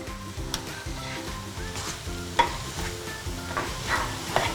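Mushrooms sizzle in a hot pan for an Italian mushroom soup while being stirred, a steady frying hiss broken by several sharp scraping stirs, close and fairly loud, with no talking.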